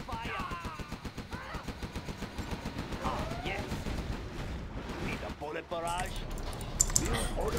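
Gatling tanks in Command & Conquer Generals fire in long rapid bursts, a dense rattling stream that runs through the whole stretch with short unit voice lines and game alerts over it.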